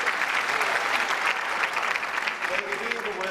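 An audience claps on cue at a 2001 election campaign event, a steady dense round of applause filling the room throughout, with a faint voice rising briefly near the end.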